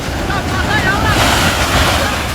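Floodwater surges along roads in Pulwama, Kashmir, after a cloudburst, making a loud, steady roar of rushing waves mixed with wind buffeting the microphone.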